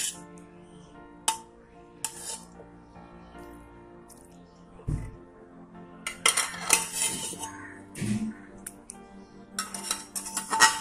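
Boiled flat beans (shim) being moved from one cooking pot into another in a home kitchen, with scattered metal clinks and scrapes of a spoon against pots, irregular and fairly close, with quiet pauses between.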